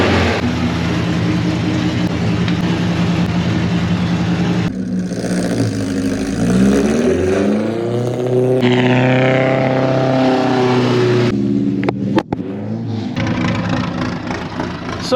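A 93-year-old car climbs a slippery hill, its old engine droning loudly and continuously, rising and falling in pitch as it revs and strains, with a brief clunk near the end.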